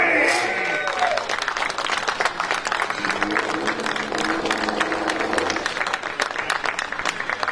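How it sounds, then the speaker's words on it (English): A crowd at a USF2000 race podium at Sebring applauds winner Luke Ellery, brisk sustained clapping with some cheering, loud and close, as a voice speaks briefly near the start. "A round of applause for Luke Ellery!"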